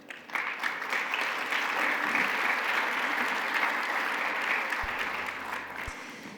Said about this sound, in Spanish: Por favor, brindémosles un aplauso.